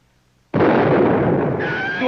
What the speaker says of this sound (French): Dorothée, ce coup de feu est-il venu réellement de cette direction?